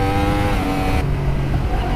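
A 2016 Yamaha R1 sport bike engine held at light throttle, a loud, steady, tonal engine drone with a slight pitch shift midway, close and continuous.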